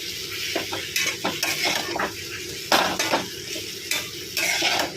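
Okra with crushed peanuts being stirred in a pan, a steady close sizzle broken by repeated scraping strokes and light clinks of a spoon against metal.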